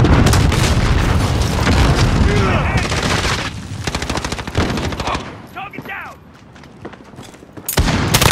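Explosive charge detonating in a Call of Duty Modern Warfare Team Deathmatch match, a loud boom amid rapid, dense gunfire bursts, then a quieter stretch before another sharp blast at the end.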